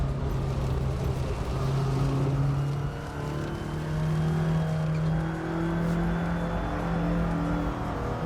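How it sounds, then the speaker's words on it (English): A Mazda Miata drifting in the racing game Assetto Corsa, with a steady engine drone whose pitch rises and falls as the throttle is worked, continuous and fairly loud with no voices. "I do love drifting, as you can tell."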